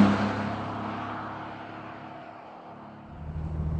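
A convertible driven fast along a road, heard as a continuous engine and road roar that eases off, then swells again near the end, with no talk over it.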